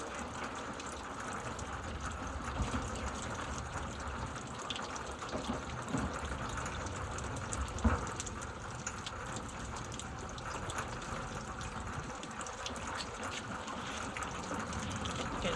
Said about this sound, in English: Okay, this is gonna be the last flush.